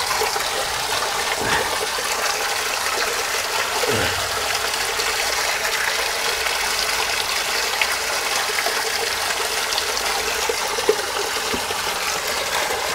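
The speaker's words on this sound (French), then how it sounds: "le tuyau que vous voyez couler ici, c'est l'eau de la ville qui vient de la rue" Water from a city supply pipe gushes continuously from a very large leak in a crawl space, a loud, steady rushing hiss that stays even from start to finish, with no voices.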